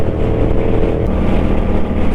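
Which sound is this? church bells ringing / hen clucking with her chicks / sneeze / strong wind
strong wind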